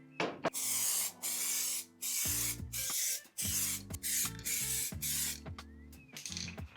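A spray can puts the first coat of paint on a motorcycle part on a very hot day, in a run of loud hissing bursts. Each burst lasts about half a second to a second and is separated by short gaps, with clicks and rattles between them.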